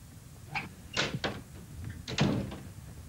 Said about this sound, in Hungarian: Csukja be az ajtót.